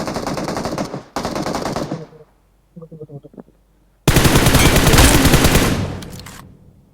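Machine gun fire in a video game, loud rapid bursts: two close sustained bursts, a short pause with a few lighter clicks, then a long, loud, fast burst that tails off.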